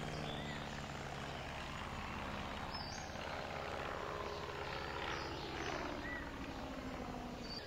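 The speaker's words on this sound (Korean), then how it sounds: "뭔 비행기가 날라댕기냐?" An airplane drones steadily overhead in a video game, a continuous engine hum lasting the whole stretch at moderate, fairly distant loudness with no talking.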